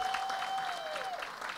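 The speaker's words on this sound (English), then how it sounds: "give them a round of applause" Conference audience applauding a sponsor, a brief steady burst of many hands clapping, moderately distant in a large room.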